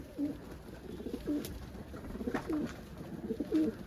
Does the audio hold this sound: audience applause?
no